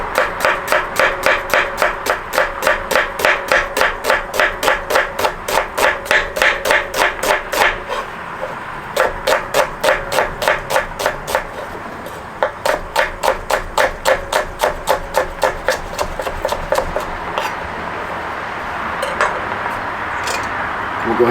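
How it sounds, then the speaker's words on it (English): A knife slices onions thinly on a cutting board while hibachi onion soup is prepped, giving a long run of quick, steady, crisp chops close by, with a brief pause partway through and no talk. "So for the fried onions, you just want to go ahead and slice thin slices of onions,"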